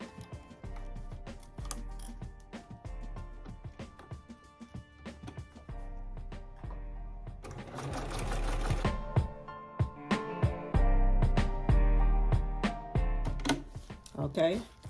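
A sewing machine stitching African print fabric for a pouch, a clattering, ratcheting run of stitches that starts light and grows denser and louder toward the end, with small mechanical clicks, close by.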